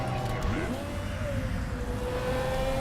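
A race car in the Motorsport Manager racing game sweeps past on a practice lap, a rising engine whine that settles into a steady drone over a rumbling background, with a person talking over it.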